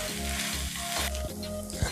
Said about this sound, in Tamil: தக்காளி நல்லா குழையிற அளவுக்கு வதக்கி எடுத்துடலாம்.